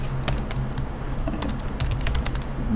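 Steady, fairly loud typing on a computer keyboard, rapid clustered keystrokes with a low hum underneath and no talking.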